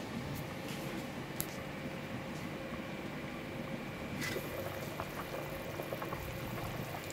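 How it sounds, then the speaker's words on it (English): Chicken stock simmering at a steady boil in a pot after hours of cooking, a continuous soft bubbling hiss with scattered small pops, close and even throughout with no talk. "So the soup has been boiled down for about 2 inches down"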